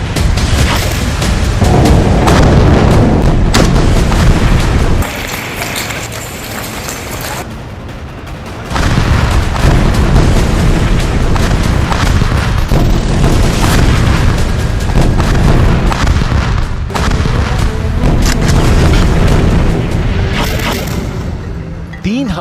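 Ground and air strikes in Gaza during the Israel-Hamas war: loud, heavy blasts and rumbling booms follow one another almost continuously, with a brief quieter lull before the barrage resumes.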